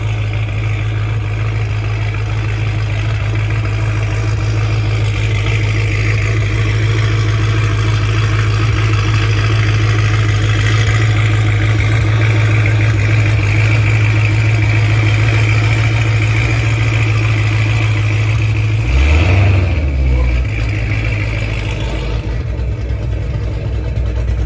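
A car engine idles with its exhaust valves closed, a loud, steady low drone held close by for the whole stretch, with a brief surge of revs near the end before it settles back.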